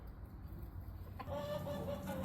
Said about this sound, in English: And what are you clucking about today?